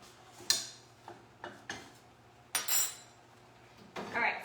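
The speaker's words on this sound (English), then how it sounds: "I'm gonna grab a spoon." A spoon clinks against a dish in a few sharp, separate taps spread over several seconds, each one close and brief, with quiet pauses between them and no talking.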